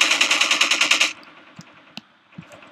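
A rapid burst of automatic gunfire rattles loudly for about a second in Half-Life 2 Episode gameplay, followed by a few scattered faint impacts and clicks.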